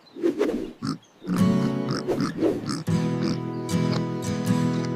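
Pigs on a small farm grunt and oink close by, a run of short snorting grunts giving way to longer, sustained squeals that carry through most of the stretch.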